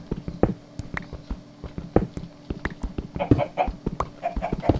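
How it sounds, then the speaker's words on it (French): Chickens cluck in short, irregular bursts, fairly close, with no talking over them, in a video game. "J'entends des poulets, comme ça on aura la bouffe."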